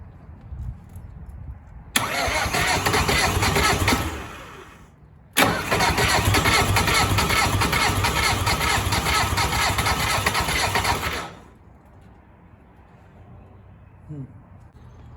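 An old skid steer engine cranks over and catches twice, each burst a loud, steady rumble lasting a few seconds before cutting out, with quiet gaps between and faint background noise after.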